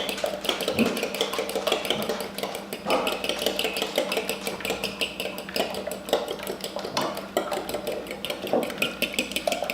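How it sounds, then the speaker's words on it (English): Fork whisking eggs against a bowl in a home kitchen, a fast steady clatter of metal tapping that runs on without a break, fairly close and alone with no talking. "And then we're going to beat the eggs with a fork."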